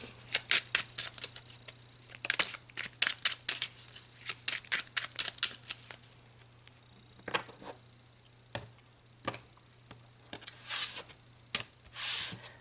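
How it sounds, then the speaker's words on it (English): Tarot cards are shuffled and drawn, with a run of quick, close papery slaps and riffles early on, then sparser single snaps and soft card slides against a low steady hum. "So let's pull some cards"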